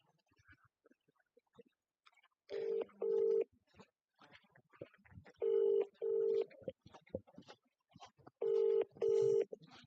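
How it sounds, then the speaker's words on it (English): A telephone rings in three pairs of double rings, spaced a few seconds apart, with faint background movement and murmuring between them. "It's ringing for a long time."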